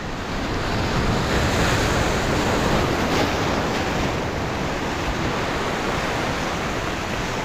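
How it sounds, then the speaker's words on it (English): Ocean surf rolls in steadily against the rocks of a jetty on a cold December coast, a loud, continuous wash of breaking waves with wind buffeting the microphone throughout and no voices. "Seemed like a lot more waves started rolling in right after I caught that one."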